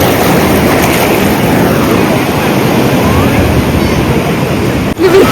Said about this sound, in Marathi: तो सॅटिस्फाईंग यार, असं लाटा समुद्राच्या